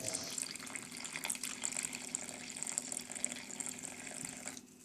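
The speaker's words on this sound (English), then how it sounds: "now a bit of lukewarm water" Lukewarm water is poured from a tap or jug into powdered spices, including red chili, for a Kerala fish curry. It makes a steady splashing, trickling hiss for nearly five seconds before stopping abruptly, fairly faint and close.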